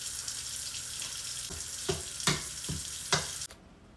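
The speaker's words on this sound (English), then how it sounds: "next up is gonna be browning the turkey meat" Ground turkey browning in a pan for taco cups gives a steady sizzle with several sharp scraping stirs, then cuts off abruptly near the end.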